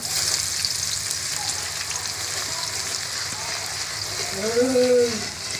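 Chopped garlic hits hot oil in a wok with a steady crackling sizzle, continuous hiss of frying throughout, with a brief clink or scrape of a utensil near the end.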